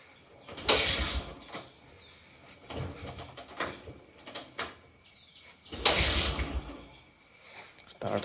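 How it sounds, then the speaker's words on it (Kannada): A Bajaj CT-100 motorcycle is kick-started, two loud mechanical kick strokes with clanks and rattling in between, fairly close, with no engine catching and no voices. "ಕಿಕ್ಕಲ್ಲಿ ಸ್ಟಾರ್ಟ್ ಮಾಡಿ"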